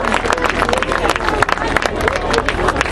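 Applause from a crowd saluting gladiator actors at an open-air Roman siege re-enactment in Mirabella Eclano, a dense, steady patter of many hands mixed with crowd noise, with someone talking over it.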